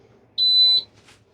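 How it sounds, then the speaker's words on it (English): A single steady electronic beep from a utility tractor's warning, loud and close, lasting about half a second against a quiet background. "She's beeping at me though"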